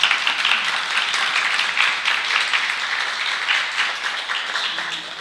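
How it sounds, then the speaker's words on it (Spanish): Steady audience applause at a nighttime celebration session, dense and sustained clapping from a crowd throughout, fairly close and even in loudness with no talk over it. "Un aplauso para que se animen porque están un poco…"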